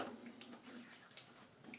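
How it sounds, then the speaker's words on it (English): Tap water runs in a bathroom sink while hands are rinsed before a shave with a Rockwell 6S razor and badger brush, a steady close splashing hiss with a few brief splatters. "a little bit of water, rinse the hands"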